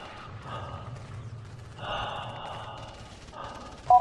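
Simulated casualty breathing in a first-aid training scenario, soft slow breaths rising and falling close up, with a faint sharp click at the end.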